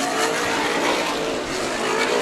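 Several sprint cars battle three-wide for the lead on the Stockton 99 Speedway oval, a dense, continuous roar of high-revving engines holding steady and loud throughout with no pauses.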